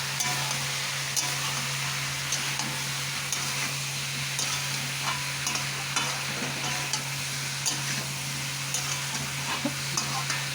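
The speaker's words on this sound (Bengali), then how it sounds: "ভালো করে কষিয়ে নিলাম সবজি মশলা।" Vegetables and spices, including turmeric, are sautéed in a pan with a steady, close sizzle and a quick series of light scraping stir strokes throughout. A low hum runs underneath and no one speaks.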